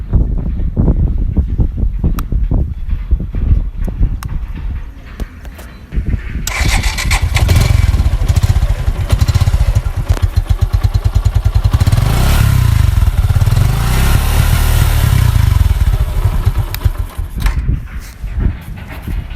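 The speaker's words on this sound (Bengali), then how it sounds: "বাইকের সাউন্ডটা কী অবস্থা বা কীরকম আছে বর্তমানে।" A Suzuki Gixxer motorcycle engine idles close by with a steady, rapid, thumping pulse. Partway through it revs up to a louder, fuller roar, then eases back toward idle, and there is no talk over it.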